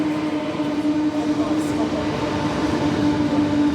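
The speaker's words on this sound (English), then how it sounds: "there's another freight train" A freight train rumbles steadily past a Midland railway station, a continuous close grinding roar of wheels and wagons with a sustained hum running underneath, loud and even throughout.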